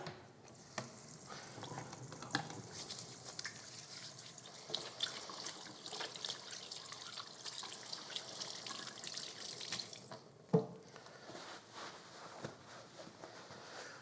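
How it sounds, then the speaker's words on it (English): Hands washed under a running kitchen tap after handling raw chicken, a steady close hiss of flowing water with soft splashing and a brief clunk near the end, no speech. "I'm just going to wash my hands as I have touched the raw meat here."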